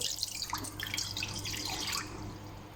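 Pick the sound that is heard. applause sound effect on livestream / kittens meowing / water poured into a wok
water poured into a wok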